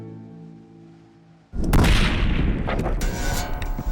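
A rifle shot fired outdoors in strong wind, heard as one sudden loud blast followed by a rolling, noisy echo and wind buffeting, after a quiet stretch of low rumble.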